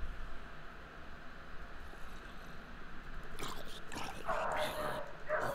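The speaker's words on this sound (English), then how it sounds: "And there's a dog barking." A dog barks and yips within a horror video game, faint and distant at first, with sharper bursts toward the end over low background noise and quiet voices.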